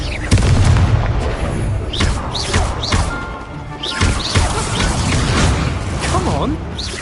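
Spell blasts in the Hogwarts Legacy video game crash and boom in a busy run of impacts and whooshing bursts, loud and dense, with a voice shouting over the combat.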